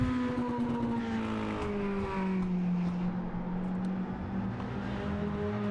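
A mini-stock race car laps an oval track, its engine droning loud and close, then pitch sliding downward as it sweeps past and carries on around the circuit.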